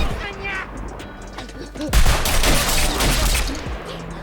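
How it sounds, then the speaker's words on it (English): Ruthless gunfire erupts in a film battle scene, a dense burst of overlapping rifle shots and cracks after a murmur of voices, loud and chaotic with shouting underneath. "only to be met with ruthless gunfire"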